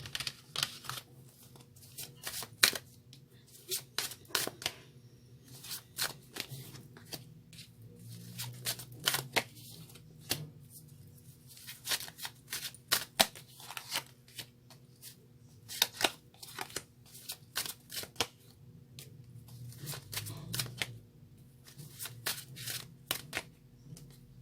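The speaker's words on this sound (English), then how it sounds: "One more shuffle, they say." Tarot cards are shuffled by hand in repeated riffling bursts with short pauses between them, close and crisp with no talking.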